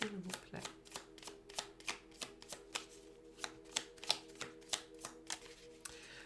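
Tarot cards are shuffled and drawn for a card reading, making a steady series of crisp flicking snaps at a brisk, even rhythm, close and clear, with a voice speaking briefly at the start.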